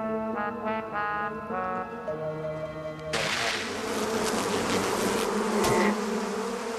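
A dense, steady buzzing of many killer bees swarming, loud and continuous, growing fuller and harsher partway through.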